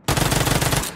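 An automatic rifle fires one rapid burst of about fifteen evenly spaced shots in the mobile battle-royale game Game for Peace, on the rainforest map. The shots are loud and close, then stop abruptly.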